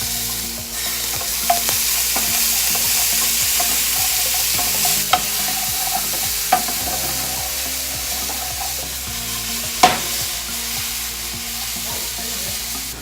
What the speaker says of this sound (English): See, the garlic's already browning.